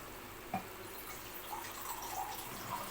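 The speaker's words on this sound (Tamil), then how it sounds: "கொஞ்சம் தண்ணி ஊற்றிக்கலாம்" Water trickles and drips into a pan of cooking ponnanganni greens, a faint, steady splashing pour with a few small drips, quiet and close with no voices.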